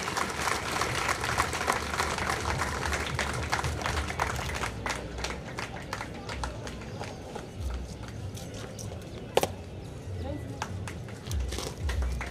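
An outdoor audience at a passing out parade for new CISF constables gives sustained applause, dense and steady, fading somewhat partway through, with a sharp knock near the end.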